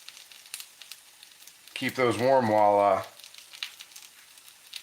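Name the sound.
liver frying in a cast iron skillet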